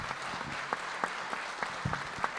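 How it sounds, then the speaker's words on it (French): An audience claps after a conference talk at a forum, a continuous moderate wash of applause with occasional sharper individual claps standing out. "Merci Alain, je crois qu'on peut vous applaudir."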